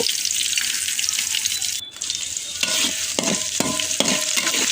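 Steady frying sizzle of shrimp and onion in a pan, with a brief dip and then repeated scraping stirs of a utensil against the pan.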